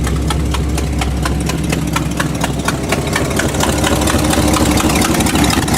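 A Buick car engine with a persistent misfire idles steadily and loudly, a continuous low rumble with a rapid, even ticking running through it, alone with no voices.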